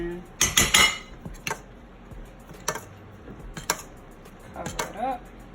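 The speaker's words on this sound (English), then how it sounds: "Let me get a spoon and kind of scoop some in." A metal spoon scooping simmering sauce in a pan for smothered fried pork chops, with a cluster of sharp clinks and scrapes early on, then a few isolated taps against the pan.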